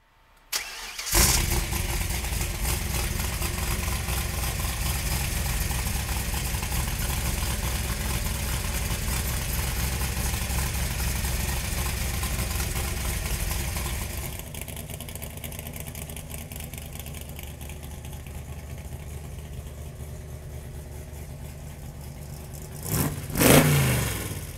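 A small-block V8 in a 1965 Shelby Cobra Factory Five catches after a brief crank and settles into a loud, steady, rumbling idle. It drops a little quieter midway, then a quick throttle blip closes the run.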